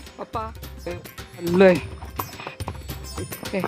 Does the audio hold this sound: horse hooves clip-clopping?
yes